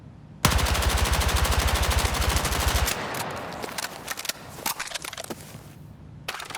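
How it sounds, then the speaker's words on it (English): Rapid automatic fire from an MP5 submachine gun in the video game Battlefield 6: a loud, unbroken stream of shots for about two and a half seconds, followed by scattered single cracks and impacts. "if I go to the MP5, the MP5 is on burst"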